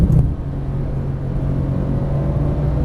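A Porsche 991 Turbo S engine pulls hard from inside the cabin, a loud steady low rumble and drone with a brief heavier surge at the start, sustained without a break.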